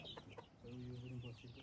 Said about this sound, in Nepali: यो नि त लोकल कुखुरा हो नि.